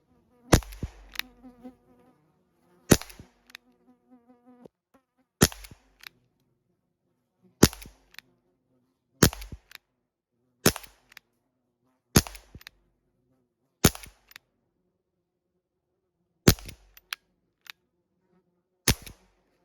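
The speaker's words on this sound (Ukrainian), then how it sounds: "А тепер постріляємо на купність із револьвера Кольт" A series of sharp, loud pistol-like cracks from an Umarex Colt CO2 air revolver, about a dozen single shots fired at uneven intervals, each followed by a brief metallic rattle, with no talking.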